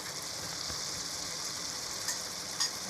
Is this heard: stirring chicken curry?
yes